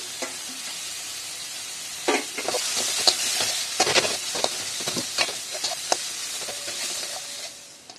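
A spoonful of ginger paste and spices fries in a pan for a katla fish and potato curry, making a loud, hissing sizzle broken by repeated scraping stirs that fades at the end.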